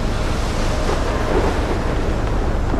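Stormy weather in the video game Life is Strange, with steady roaring wind and crashing surf, loud and continuous throughout without pause.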